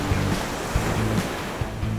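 Waves splash and surge loudly around a boat riding on the open sea, mixed with strong wind buffeting the microphone and recurring low thumps as the hull hits the water.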